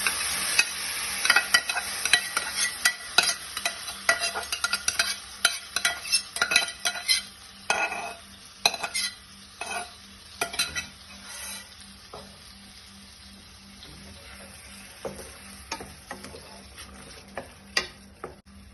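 Close, irregular scraping and clinking of a spoon stirring veg bites curry through a pan, with a soft sizzle running underneath and no one talking.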